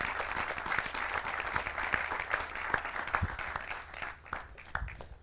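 Audience applause, a loud close wash of clapping with distinct individual claps standing out, thinning slightly toward the end.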